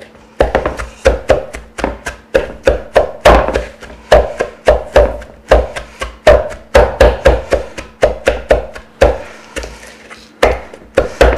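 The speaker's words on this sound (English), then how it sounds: "the point of chopping this is really just to make it easier to eat, to chew" A knife chopping food on a cutting board during kitchen batch prepping, a fast, steady run of crisp close thunks that keeps going without pause and with no talking.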